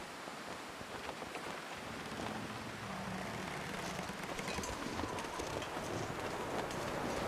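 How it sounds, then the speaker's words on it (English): Steady, rushing blizzard wind in the video game The Long Dark howls with a broad hiss, thickening and growing slightly louder partway through, with no voices. "Oh yeah, it's transitioning into a blizzard."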